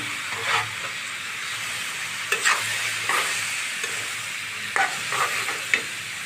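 Raw tomatoes go into cauliflower sizzling in a frying pan, with a steady hiss of frying under repeated scraping stir strokes and a few sharper clatters from the utensil; no one speaks.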